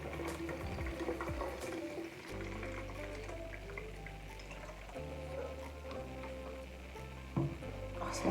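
Homemade rose water poured into a spray bottle, a steady liquid trickle and splash running close by with a short break partway through, with no voices.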